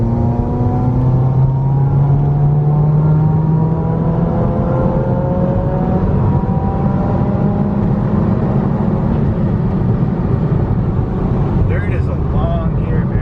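A Subaru WRX accelerating hard during a tuning logging run, heard from inside with a loud, steady engine roar rising in pitch through the gears.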